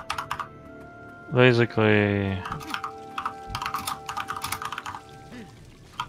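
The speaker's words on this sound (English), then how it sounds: "Whoever's typing right now, please stop." Rapid clicking of keys on a computer keyboard during an online game raid voice chat, quick irregular taps running through most of the stretch while a person talks briefly over it.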